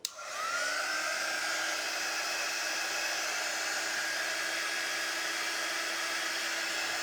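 A handheld heat or hair dryer drying ink on a paper craft project starts with a click, then blows as a steady, close, continuous whooshing whine with a faint tonal hum for several seconds, no talking.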